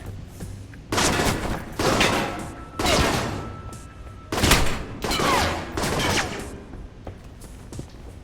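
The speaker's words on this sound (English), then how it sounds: "Who's shooting at me?" Gunfire aimed at the player in a video game lands in about seven separate bursts of rapid shots, each around half a second long with short gaps between, loud and sharp with no speech over them.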